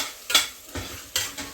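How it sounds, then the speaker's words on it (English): A spoon stirs chili beans with meat in a simmering pot, giving a few soft scraping, sloshing strokes in an irregular rhythm, close and fairly quiet, with no talking. "keeping it stirred up until we get all that mixed in there real good"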